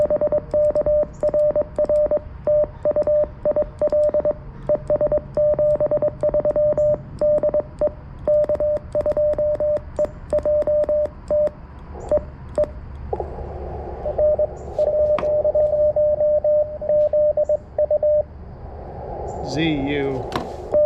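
A Morse code CW radio signal keys steadily with rapid dots and dashes on a single tone, fading in strength partway through, with brief overlapping tones near the end.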